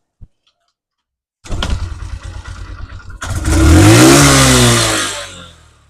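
A motorcycle with a meter indicator problem, a short click, then the engine cranking and catching with a clattering idle before a loud, close rev that rises and falls away.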